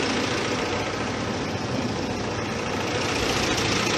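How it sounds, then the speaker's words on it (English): A steady, low idle of an Allis-Chalmers D17 vintage tractor engine rumbles continuously at close range, even and unbroken, with no voices over it. "Idling nice right now."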